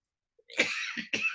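A few quick, harsh coughs close by, one longer burst followed by a shorter second hack.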